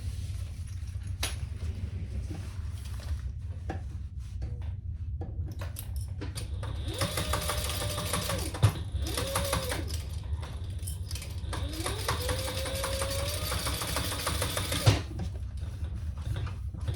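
A sewing machine stitches a fabric seam in short bursts, its whirring mechanical hum rising and stopping between pauses and small handling noises, moderately close with no talking.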